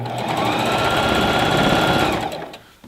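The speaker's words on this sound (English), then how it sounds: "This machine will sew fast, so if you floor it" A Singer Classic Heavy Duty sewing machine runs fast on a plastic table, giving a loud, dense mechanical whir of rapid needle strokes that holds steady and then winds down at the end.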